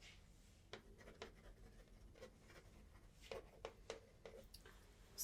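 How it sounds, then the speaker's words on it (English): A pen scratches out a note in short, soft strokes, close and quiet, with small pauses between bursts of writing against a hushed background. "Okay, I'll write that down."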